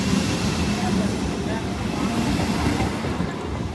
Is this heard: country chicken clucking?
no